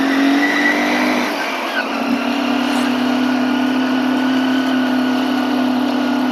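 Steady engine drone of a motorbike ridden along the road to Kondapalli, with wind noise, continuous and fairly loud throughout with no pauses.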